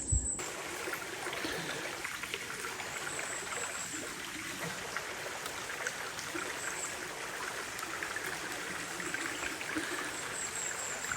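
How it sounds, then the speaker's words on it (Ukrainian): A mountain stream in the high Carpathians flows steadily, a constant rushing babble of water heard up close with no voices. "як співає гірська річка"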